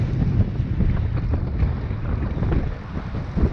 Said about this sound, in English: But yeah, the wind's picked up.